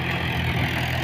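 A tractor engine runs steadily at a loud, constant drone near the paddy fields and fish ponds of rural Assam, with no talking.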